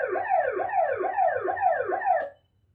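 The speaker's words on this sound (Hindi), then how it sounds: "एम्बुलेंस एक कांस्टेंट फ्रीक्वेंसी का साउंड भेजती है।" A simulated ambulance siren demonstrating the Doppler effect: a clear, steady wail that rises and falls in about five quick, even cycles, then cuts off into silence.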